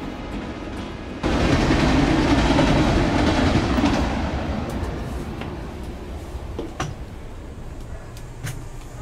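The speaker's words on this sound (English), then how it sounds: "Got a train coming, roll it." A CSX or NS freight train roars in suddenly after a quiet second, rumbling loudly, then slowly fades while scattered clicks and clanks of the cars continue.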